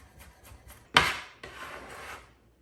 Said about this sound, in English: Quick chop.